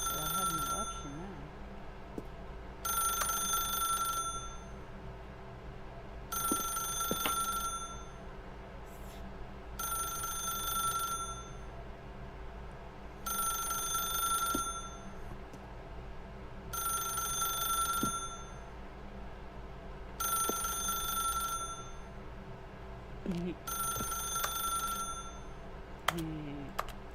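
A telephone rings again and again in The Stanley Parable, eight or so evenly spaced bright bursts with short gaps between them, standing out over a low, steady background bed.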